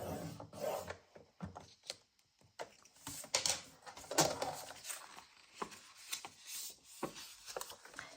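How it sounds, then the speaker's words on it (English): A scoreboard tool scoring along a paper flap, heard as soft, close scraping and rubbing strokes with small clicks, quiet and irregular. "I'll use my scoreboard to just score along my flap"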